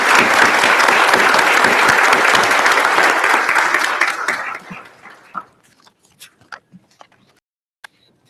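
Audience applause at a high school commencement ceremony, thanking a JROTC unit: loud, dense clapping for about four seconds that thins into a few scattered claps and then fades to near silence.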